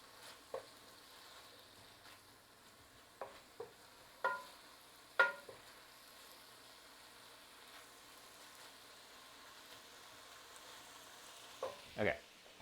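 Apples sizzle in a stir fry pan for an apple pie stir fry, giving a faint, steady frying hiss with scattered sharp crackles and pops, no voices.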